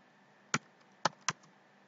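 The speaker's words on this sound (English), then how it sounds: "So after the update, now just type a command apt-get" A computer keyboard being typed on while entering a Linux terminal command, three sharp isolated key clicks, the last two close together, in a quiet room.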